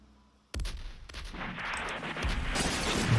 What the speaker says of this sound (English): Guns, explosion, grenades,